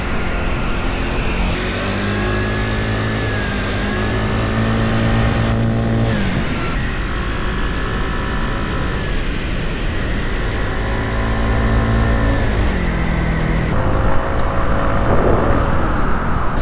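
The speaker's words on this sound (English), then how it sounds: "And the motor really doesn't sound that bad." A 2003 PGO My Bubu 125 scooter with a suspected knocking engine runs loud and close while riding, its tone rising and falling as the throttle changes, under steady wind rush.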